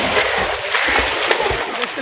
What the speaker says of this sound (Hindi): देखिए दानी का डुबकी मारी